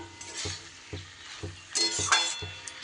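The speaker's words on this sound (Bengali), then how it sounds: "এবার ডিমটা একটু ভালো করে পেঁয়াজকলির সাথে আমি মিশিয়ে দিলাম" Egg being stirred together with onion stalks in a frying pan, a steady hiss of frying under repeated rhythmic scrapes of a spatula against the pan roughly every half second, with a brighter clink near the end.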